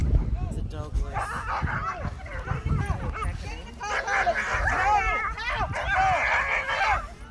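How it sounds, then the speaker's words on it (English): Several dogs bark and yip excitedly during a dog race at a community market in Loch Sport, Victoria, Australia, with rapid overlapping barks, whines and crowd voices throughout. "Oh, some dogs went. It's a dog race."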